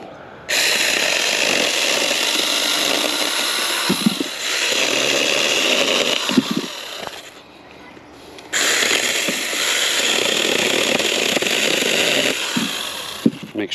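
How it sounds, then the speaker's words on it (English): A small, inexpensive battery pruning saw with a 6-inch bar cutting firewood, a loud, close, buzzing whine in two long runs with a brief drop and pause between them, no talk. "Really, technically, a pruning saw."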